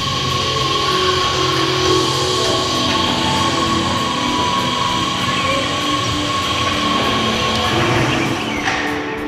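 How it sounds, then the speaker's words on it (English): A train in Kahramaa Awareness Park, Qatar, runs steadily close by, a constant loud rumble with squealing wheels and metallic rattling throughout, no talking. "We will ride a train here."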